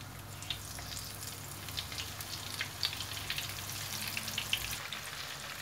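Salted, lemon-marinated fish fries in hot oil in a pan, giving a soft, steady sizzle with scattered crackles and pops, close by and with nobody talking.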